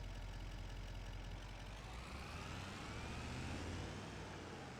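A farm vehicle engine in Farming Simulator 25 runs steadily after starting, a low continuous rumble at an even, moderate level with no talking.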